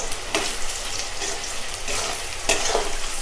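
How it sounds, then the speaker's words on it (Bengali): Potatoes frying in oil with panch phoron, a steady close sizzle broken by a few sharp bursts of spatter and stirring, with no voices. "দু মিনিট আমি আলুটা একটু ভেজে নিয়েছি।"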